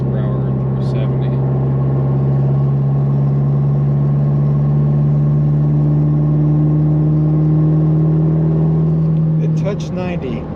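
A car fitted with a Baun Performance exhaust pulls in sixth gear from 60 to 70 mph, a steady droning engine note rising gradually in pitch, with brief talk near the end.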